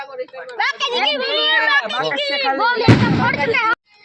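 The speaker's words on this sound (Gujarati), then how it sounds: "છોકરા બોમ્બ ફોડે બધા" A loud Diwali firecracker bang bursts sharply over excited voices, followed by a brief crackle as chatter continues close by.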